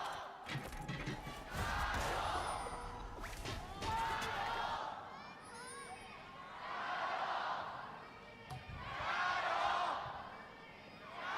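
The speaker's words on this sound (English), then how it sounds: "Love that we get the energy of the crowd at least a little bit." Arena crowd at a live LPL esports playoff match cheers in broad swelling waves, rising and falling several times over the stretch, with no talk on top.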